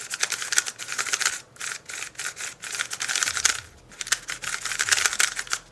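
A new Huameng YS3M magnetic speed cube gets its first turns, giving scratchy, rapid clicking bursts of plastic layers turning, with brief pauses in between, close and fairly quiet.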